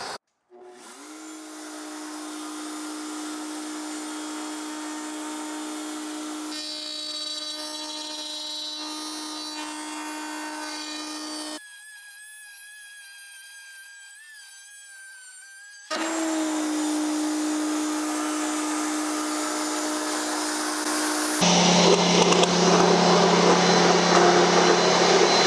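Router with a cheap Ryobi bit shaping wooden window muntin moulding. The motor spins up to a steady whine, drops out briefly, then returns with a louder, rougher cutting roar near the end.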